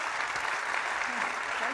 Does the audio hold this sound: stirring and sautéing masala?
no